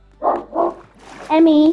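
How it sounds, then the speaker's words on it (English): A dog barks twice in quick succession, loud and close indoors, before a voice speaks. "sorry, that's my dog."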